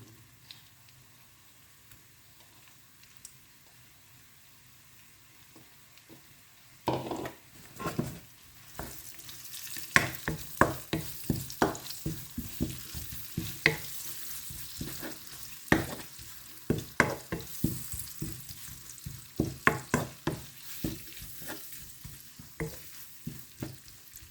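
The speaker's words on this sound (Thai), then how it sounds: "ผัด ผัดจักน้อยกันพี่น้อง" Tomato spaghetti sauce is stir-fried in a pan. A faint background comes first, then a sizzle with repeated scraping, clattering stir strokes arriving in uneven bursts, close by, with no talking.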